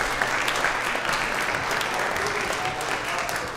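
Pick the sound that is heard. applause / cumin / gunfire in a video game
applause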